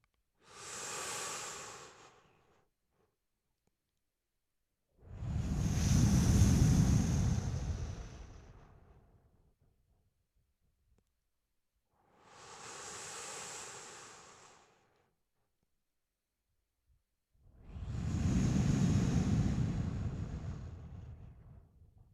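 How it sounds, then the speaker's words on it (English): Four slow Ujjayi ocean breaths, each a long, soft, airy rush through a constricted throat, alternating inhale and exhale and separated by quiet pauses, close and clear with no talking. "And Ujjayi breath, what you're doing is you're making the breath audible"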